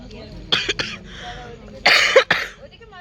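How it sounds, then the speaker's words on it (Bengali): Several harsh coughs burst out close by in two clusters, separated by a brief quieter pause. "কিন্তু আমার কাশি প্রচন্ড বেড়ে গেছে"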